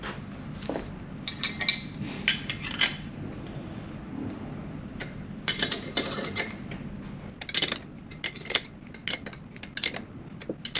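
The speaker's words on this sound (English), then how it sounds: "I'm not really putting too much effort into tightening this nut up." Ratchet tightening a nut on a classic Mini 1976 suspension top arm: short bursts of quick metallic clicks spaced irregularly in a quiet workshop, close and moderately loud.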